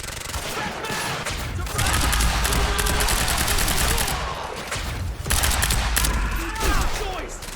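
Sustained gunfire in the video game Quantum Break, rapid automatic bursts and shots loud and continuous, with brief dips between volleys and some in-game voices underneath.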